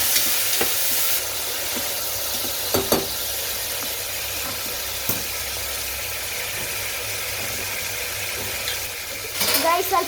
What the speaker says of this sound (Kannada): ನಮ್ಮ ಅಜ್ಜಿ ಟೊಮೊಟೊ ಹಾಕ್ತಿದ್ದಾರೆ ನೋಡಿ